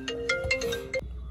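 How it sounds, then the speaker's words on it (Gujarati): An incoming call plays as a short melodic phone ringtone of several quick bright tones, close and fairly quiet, then stops. "ફાઇનલી મિત્રો ફોન આવી ગયો"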